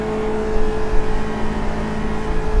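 A Lotus 49 race car engine drones steadily and loudly at Twin Ring Motegi, a dense, sustained mechanical hum without any pauses.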